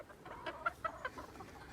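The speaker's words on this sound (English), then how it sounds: "Especially for the Polish hens, they're starting to venture farther away" Polish hens clucking near their coop, a handful of soft, short clucks and murmurs spaced irregularly over a low background, fairly close and gentle.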